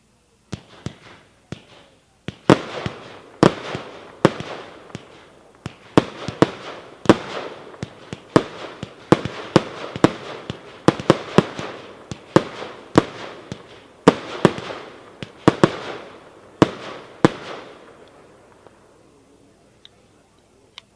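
A 25-shot M25 Blue Willow fireworks cake fires a rapid string of sharp, loud reports, each launch followed by crackling bursts, the barrage steady for around seventeen seconds before fading into quiet.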